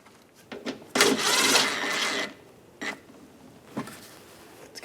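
Plastic mounting bolt being driven into a car's front splash shield behind the fender: a sustained ratcheting, whirring burst followed by a few short clicks and squeaks, close and fairly quiet.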